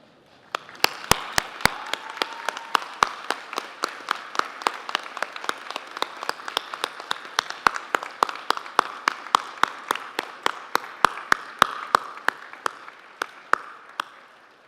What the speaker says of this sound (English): join me in a warm round of applause to say thank you